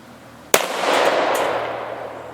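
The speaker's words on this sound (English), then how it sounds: "Got to shoot that drum." A single close, loud gunshot from a revolver firing pellet shot at a drum target outdoors, a sharp crack followed by a long fading echo that rolls away over about two seconds, with no talk.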